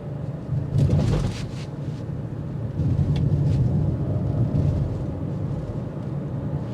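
Steady low rumble of road noise inside the cabin of a 2024 Nissan Rogue SL on larger wheels, a continuous broadband drone with a few brief louder thumps from road imperfections.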